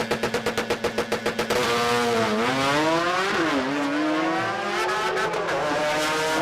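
A Hyundai i30 drag car accelerates hard at a drag racing event, its engine first pulsing in rapid bursts, then rising loudly through the gears with shifts in pitch.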